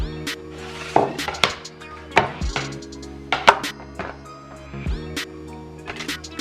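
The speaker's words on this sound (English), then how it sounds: "So I'm doing a double cut to create 4 individual" Knife cutting raw lamb chops into double cuts on a board, with a series of sharp, close thuds and clacks in an uneven rhythm over a steady background hum, with no talking.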